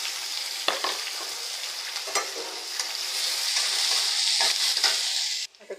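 Onion frying in hot oil with mustard seeds, cumin and peanuts gives a steady bright sizzle with occasional crackles and stirring scrapes, close up and with no talk, before it abruptly drops off at the end.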